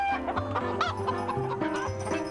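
Hens cluck repeatedly in a Noddy cartoon, a busy, close chorus of short rhythmic clucks and squawks filling the whole moment with no talk.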